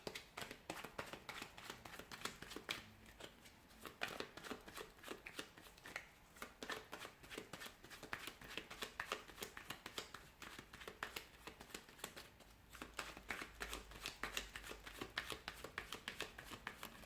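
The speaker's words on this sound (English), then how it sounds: "So we'll give the cards a shuffle and we'll begin." Tarot cards are shuffled by hand in a quiet room, a soft, rapid, continuous riffling and slapping close by with no talk.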